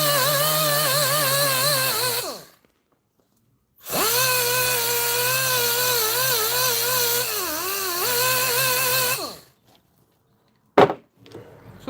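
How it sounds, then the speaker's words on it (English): A rotary polisher works compound into the plastic of a Honeywell Turbovisor DTVR, whining at a high steady pitch in two long runs with a short pause between them, then a brief final burst. "Very effective, that rotary polisher."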